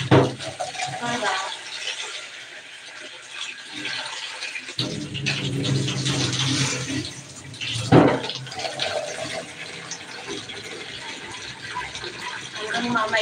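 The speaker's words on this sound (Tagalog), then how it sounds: "Lalagyan ko siya ng maraming tubig." Water pours into a cooking pot holding lemongrass, a loud gushing fill that rises and falls across several seconds, with a person talking over it.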